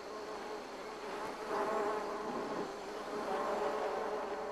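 Bees buzz around a nest in the trees, a faint, dense swarm hum that swells and fades as insects move close to and away from the listener.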